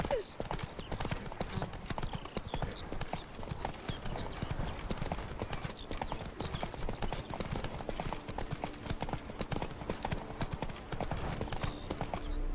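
Roach, the horse in The Witcher 3 game, clops steadily on hard ground at a brisk rhythmic pace, with close, continuous hoofbeats that last the whole stretch and soft background sounds underneath.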